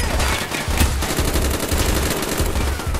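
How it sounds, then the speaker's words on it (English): Dense, continuous gunfire in Call of Duty: Black Ops, with rapid overlapping machine-gun bursts and shots rattling without a break, loud and close throughout. "Everyone just shooting everyone to the cover and whatnot."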